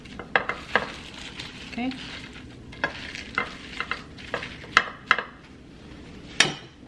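Mexican-style shrimp with heads crackle as they fry in a pan, while a utensil nudges them around with sharp scraping clatters over a steady sizzle; a brief spoken word is heard.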